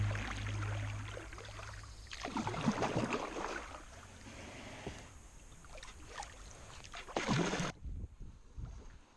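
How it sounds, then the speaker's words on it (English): Kayak paddling on Lake Järnlunden in Sweden, with rhythmic watery paddle strokes and splashes coming in bursts at close range over faint wind, no talking. "On this adventure, I'm kayaking in Lake Järnlunden, located in Sweden."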